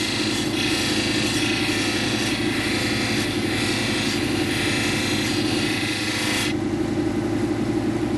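A soft lapidary grinding wheel shapes a lightning stone pendant, running as a loud, steady motor hum with a dense grinding hiss that drops away sharply near the end as pressure comes off the stone, with no voices.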